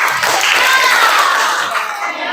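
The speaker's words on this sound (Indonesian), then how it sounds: "Tepuk tangan dong buat kalian." Students clapping in a classroom during a microteaching science lesson, a mixed, somewhat uneven burst with some voices and cheering mixed in, fairly close and loud.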